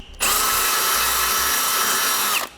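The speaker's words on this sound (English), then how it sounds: "we're gonna drill another 9/32 hole so we have a location to mount our breakaway switch bracket" A power drill bores a 9/32 hole into the bumper support of a 2008 Honda CR-V, a loud, steady high-pitched whine starting abruptly, holding for about two seconds, then cutting off.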